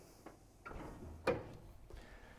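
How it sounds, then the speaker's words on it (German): The door of a MIWE go bakery oven swings shut with one sharp thud, preceded by lighter clicks and knocks of the trays coming out, close and fairly quiet. "Sobald ich die Türe schließe"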